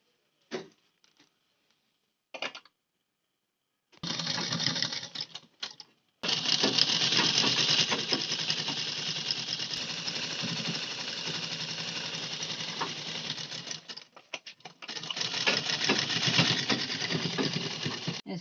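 Sewing machine stitching piping onto a blouse neckline, a few short test bursts, then a long fast steady run of rapid mechanical clatter, a brief pause, and another sustained run, loud and close.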